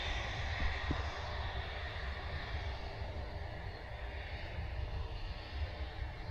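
A jet aircraft on a runway roars with a steady, loud, broadband engine rumble and whine that holds constant throughout, close by, with no voices.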